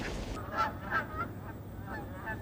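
Migrating geese honk in the distance over a wildlife refuge marsh, a few faint, spaced calls over steady wind-like background noise.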